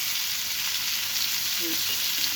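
Potato and pointed gourd pieces sizzle in hot oil with turmeric and salt after a splash of water is added, making a loud, steady hiss that runs unbroken with no talking.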